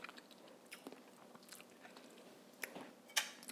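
Biting and chewing air-fried BBQ cauliflower bites with an egg and almond flour coating, giving soft close crunches and mouth sounds, with two sharper crisp bites near the end and no talk.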